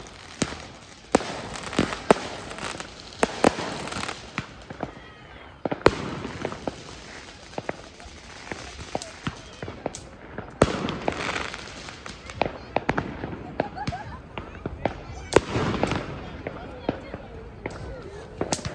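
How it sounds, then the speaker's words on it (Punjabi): Fireworks and firecrackers bang repeatedly during Diwali in a park in England, sharp cracks and louder booms scattered throughout, with people talking in between. "ਲੋਕੀ ਤੇ ਪਾਰਕਾਂ 'ਚ ਇਕੱਠੇ ਹੋ ਕੇ ਐਡਾ ਪਟਾਕੇ ਚਲਾਉਂਦੇ ਨੇ"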